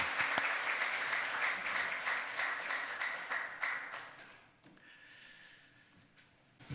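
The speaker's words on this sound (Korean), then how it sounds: "박수 올려드리겠습니다." A congregation at a Korean Sunday worship service applauds in a church hall, a full, even roar of clapping that holds for about four seconds, then thins out into a few scattered claps and quiet room tone.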